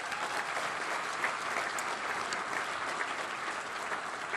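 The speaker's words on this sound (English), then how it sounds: "We can round of applause again." Steady, dense applause from an audience at a law enforcement awards ceremony, even and sustained throughout, heard from a moderate distance with no talking over it.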